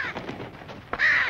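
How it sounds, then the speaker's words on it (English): A raven gives a single loud, harsh caw near the end, close by, after a stretch of quiet outdoor ambience in a 1973 Western scene. "Mr. Callahan, look, the raven."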